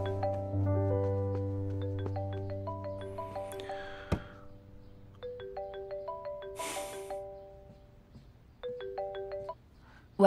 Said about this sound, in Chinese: 我接电话